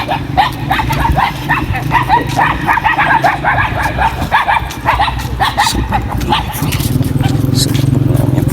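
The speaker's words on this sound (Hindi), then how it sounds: "कुत्ते भौंक रहे, डर लग रहा है बहुत।" Several dogs bark repeatedly at a Sindhi wedding gathering, loud and close, with overlapping barks and yips under a person talking nervously nearby.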